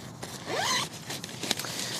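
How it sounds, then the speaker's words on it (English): A zipper on the storage bag of an Ampex 1P ultralight backpacking tent is pulled open in one quick, close rasping stroke, followed by faint handling noises. "A zipper on the bag."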